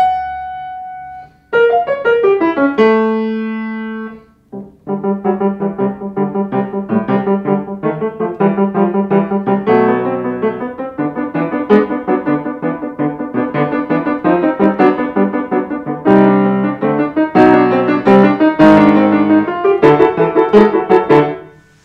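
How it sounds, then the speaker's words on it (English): Solo piano plays a piece in mixed and asymmetrical meter, with a few opening chords and brief pauses, then a busy run of clear, close notes in shifting groupings. "This particular piece sounds like this."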